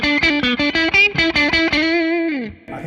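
Electric guitar played through a Mad Professor Royal Blue Overdrive pedal with the drive turned down, a quick run of plucked notes ending on a sustained chord that rings out and fades; mildly distorted tone, close and alone.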